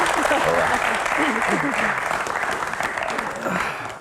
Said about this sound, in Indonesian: tepuk tangan untuk Pak Menteri